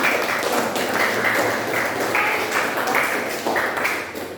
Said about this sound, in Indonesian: beri tepuk tangan dulu untuk Fahmi